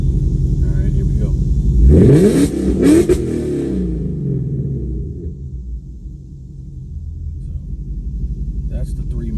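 Close, loud revving from a 2024 Mustang GT V8 fitted with Kooks catless long-tube headers and a Corsa Xtreme cat-back, in drag strip mode: a rumbling idle breaks into a couple of sharp throttle blips, then drops back to a steady burble.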